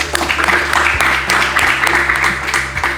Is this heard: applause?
yes